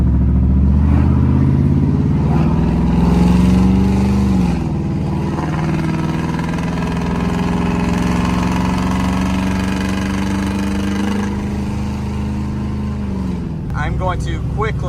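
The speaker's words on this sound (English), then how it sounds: "This truck is just downright ridiculous. It is stupid loud." A lifted pickup truck's engine drones loudly and steadily throughout, its pitch dipping and rising as the throttle changes, with a brief rattle near the end.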